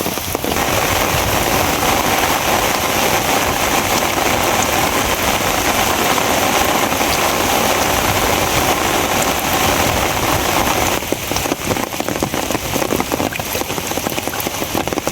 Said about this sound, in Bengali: প্রচন্ড বৃষ্টি হইতেছে